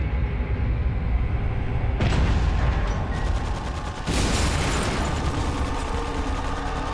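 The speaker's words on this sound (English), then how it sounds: "here's a Gatling gun" Gatling gun firing in the video game Resident Evil 4, a dense continuous mechanical rattle of rapid shots that swells in two bursts and holds steady, loud and close.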